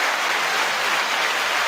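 A canned applause effect played from a sound board, a dense, even wash of clapping that holds steady throughout with no voices over it.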